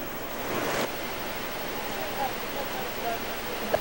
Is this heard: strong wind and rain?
yes